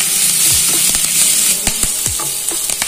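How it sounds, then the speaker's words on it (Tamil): Onions fry in a pan for Nagore-style prawn vada, giving a steady, close sizzle with a few soft stirring scrapes and clicks from the utensil. "பாருங்க வெங்காயம் ஓரளவு வதங்கிடுச்சு நல்லா."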